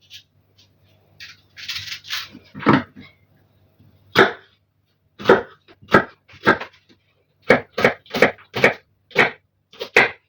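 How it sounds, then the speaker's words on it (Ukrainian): A knife finely chops onion on a board in quick, sharp strokes, speeding into a steady rapid rhythm toward the end, close and crisp with no talking. "Далі, друзі, мені потрібно дрібненько нарізати цибулю."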